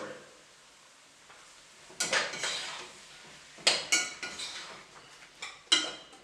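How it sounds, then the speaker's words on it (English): Spoon scrapes and clinks against a cooking pot while curry mango is stirred, in a few quiet clattering bursts separated by short pauses. "Alright, we give it one more stir."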